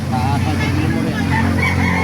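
Chickens and roosters at a poultry market in Baliuag, Bulacan, with crowing and clucking blending into steady crowd noise and nearby voices throughout.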